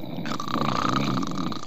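Someone snoring close into a microphone, a rough continuous rasping breath held steadily throughout without pauses.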